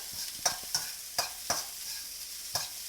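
Onion frying in a pan for Chinese-style rice makes a soft, faint sizzle with a few sharp utensil taps and stirs spaced through it.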